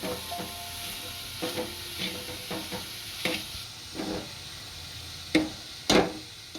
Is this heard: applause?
no